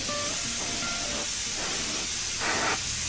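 An aerosol can sprays paint onto a Peugeot 107 rear spoiler resting on a table, producing loud, close hissing bursts in long even passes, one stronger burst near the end, with no talk.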